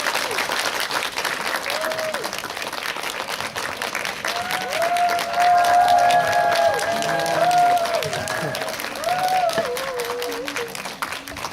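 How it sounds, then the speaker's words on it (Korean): Steady applause from a cinema audience welcoming a film director and three actors onto the stage for a post-screening audience talk, sustained clapping with some cheering throughout. "큰 박수로 맞이해주세요."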